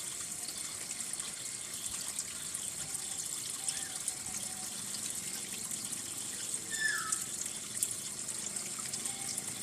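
Water draining from an aquaponics bell siphon pipe makes a steady, hissing gush and trickle that holds throughout, close and continuous with a few faint splashes.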